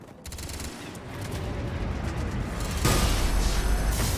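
Gunfire in Mass Effect Legendary Edition, a dense crackling fusillade of rapid shots that swells louder toward the end, continuous and close with no speech.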